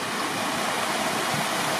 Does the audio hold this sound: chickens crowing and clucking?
no